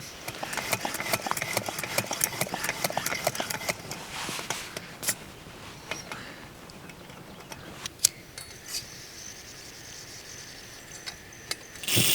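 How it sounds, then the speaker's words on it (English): An old-school backpacking camp stove burns with a steady hiss, punctuated by scattered ticks and clicks, heard close up and with no voices. "This is like an old school guide stove"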